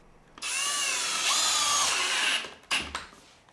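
Power drill driving 2.5-inch screws into wooden garden bench planks, one long loud whining run that rises in pitch, then a short second burst and a clunk, close up with no talking.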